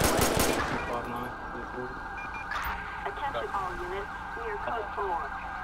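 A quick burst of loud gunshots opens a police patrol scene in GTA 5 LSPDFR. Sirens wail and someone talks over the rest of it.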